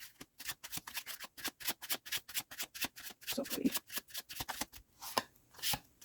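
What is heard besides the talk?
shuffling tarot cards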